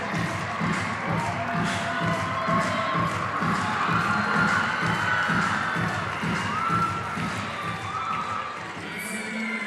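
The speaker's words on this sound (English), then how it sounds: "the crowd loves it" A large crowd at a sports competition cheers and shouts continuously, with rhythmic clapping or stomping thumps running under the roar throughout.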